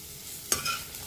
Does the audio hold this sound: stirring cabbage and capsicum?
yes